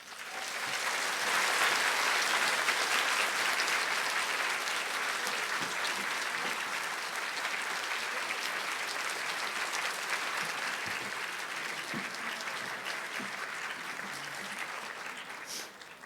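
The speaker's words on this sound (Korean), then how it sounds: "큰 박수로 맞이해주세요." A church congregation gives a long, loud round of applause to welcome a guest, the clapping thick and continuous for about sixteen seconds before easing slightly toward the end.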